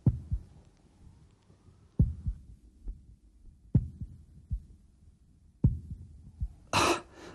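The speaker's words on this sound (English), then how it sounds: "My heartbeat isn't as slow as it should be." A slow human heartbeat, amplified and close, gives soft paired thumps roughly every two seconds over a quiet background, ending with a brief burst of noise.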